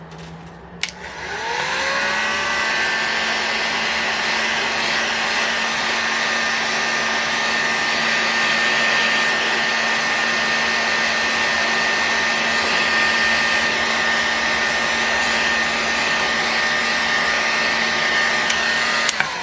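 Heat gun warming an engine case to free its bearings, starting with a click and then blowing a steady, loud, close whine and airy rush that holds evenly until it shuts off at the end.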